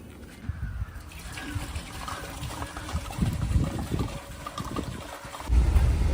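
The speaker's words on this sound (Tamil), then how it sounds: "தண்ணி ஊற்ற போகிறோம்" Water splashes and gurgles as it is poured into a large pot for chicken biryani, growing heavier toward the end, with outdoor background noise.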